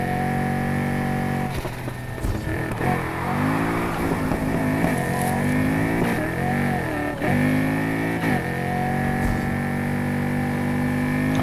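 Dual-turbo race car engine in the NFS Heat video game on PS5, droning loudly and continuously as revs rise and fall through gear shifts, with turbo whine layered over the engine note.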